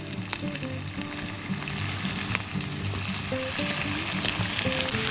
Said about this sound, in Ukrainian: Помішуємо. Додаємо цибульку та часник.